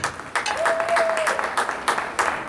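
A small group in a radio studio claps for a guest named M. Jules, a crackly burst of applause with uneven peaks and a brief tonal whine partway through.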